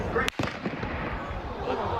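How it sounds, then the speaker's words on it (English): A sharp crack of gunfire at an outdoor event in Utah cuts through the noise of a crowd, followed by more muffled popping and commotion. "what you're about to hear, the gunfire and then the crowd reacting"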